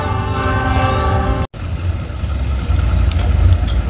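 A locomotive roars past at speed with a heavy, loud low rumble. A horn tone sounds at first, then cuts off into continuous rolling wagon noise as the train passes close by.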